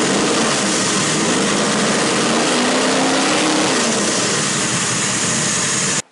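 A car engine fitted with an MSD ignition module and Accel Gen 7 EFI runs at a loud, steady, close idle with a dense mechanical drone, then cuts off abruptly at the end.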